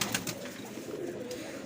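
Kabuli pigeon cooing close by in a low, throaty murmur that rolls on steadily through the moment, with faint rustling around it and no talk.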